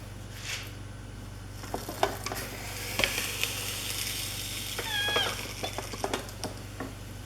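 Paruthithurai vadai frying in hot oil, a continuous close sizzle with scattered pops and clinks of a utensil, and a brief high squeak midway; no talking.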